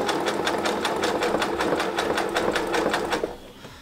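A sewing machine zigzag stitching fabric-wrapped rope into a bowl, a fast steady mechanical chatter, loud and close, that runs evenly before stopping near the end.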